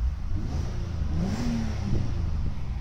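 A 2004 Toyota Avalon engine with 180,000 miles hums steadily at low revs, smooth and even, with a brief slight rise in pitch midway and no one speaking.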